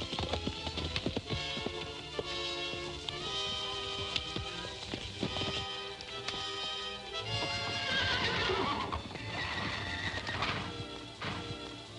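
A pinto stallion neighs and whinnies repeatedly over the clip-clop of hooves in a Western setting, several loud, ringing calls spread across a busy, continuous stretch with no talk.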